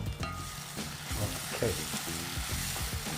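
Ground masala frying in a pan for palya, for a Karnataka-style country chicken bassaru, makes a steady close sizzle with soft scraping stirs throughout, no talk.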